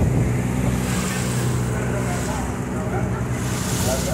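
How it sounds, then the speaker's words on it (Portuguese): Rough, choppy sea around a boat crossing a river in strong wind, heard as a steady loud roar of wind buffeting the microphone with sloshing water underneath, continuous throughout with no clear breaks. "mar hoje tá meio agitado."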